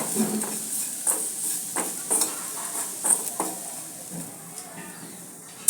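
Amla pickle with beet salt and regular salt is stirred in a pan, a spoon scraping and clinking at a steady rhythm over a soft sizzle.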